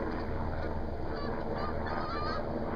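Dusky Canada geese honking nearby, a dense chorus of overlapping honks that carries on steadily throughout with no talk.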